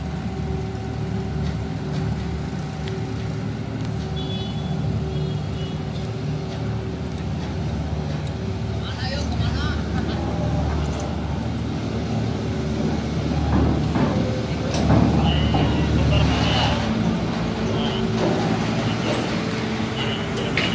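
Vehicles and motorbikes rolling off a ferry ramp at Merak port after arriving from Bakauheni at night, a continuous loud rumble of engines and traffic with occasional clanks and horn-like tones.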